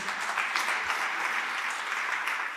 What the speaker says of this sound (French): qu'on peut également applaudir, s'il vous plaît.